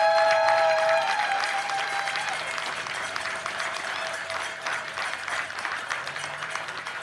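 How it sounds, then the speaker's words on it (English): Crowd applauds both teams on the field after a baseball championship game, Alaska Goldpanners versus Grand Forks Slag Dusters, with broad steady clapping that gradually thins, a whistle or voice showing near the start. "Let's have a round of applause."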